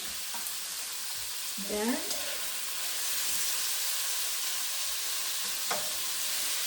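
Beef sizzling and frying in a hot pan for a beef and celery stir fry, a loud continuous hiss with occasional clinks, and a brief word spoken over it.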